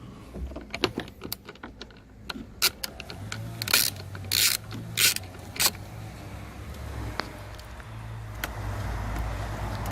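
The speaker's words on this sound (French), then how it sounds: "finalement j'ai pris mon cliquet" Ratchet clicks and sharp metallic clacks ring out intermittently while a bolt is worked on a Jeep JK. A low engine-like hum runs underneath and swells near the end.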